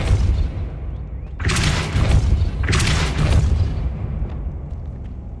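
A Depulso force spell cast in the Hogwarts Legacy video game, two heavy booming bursts roughly a second apart over a low rumbling background, loud and close.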